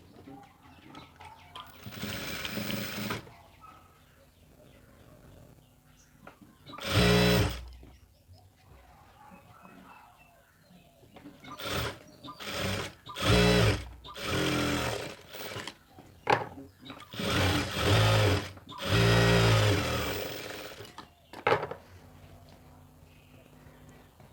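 A sewing machine stitching an XXL chudi pant runs in several short bursts of steady whirring, with pauses between them and a louder cluster toward the end, in a tailoring setting.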